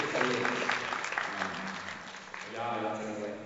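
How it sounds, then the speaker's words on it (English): An audience at a community talk in Oakland claps briefly, a short burst of applause mixed with a speaker's voice talking over and after it. "Clap it up for them."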